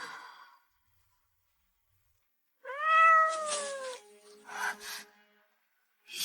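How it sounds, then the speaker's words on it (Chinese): A stray cat meows outside at night, one clear drawn-out meow followed by a rustle and a softer sound, near and distinct against silence. "又是野猫，吓我一跳。"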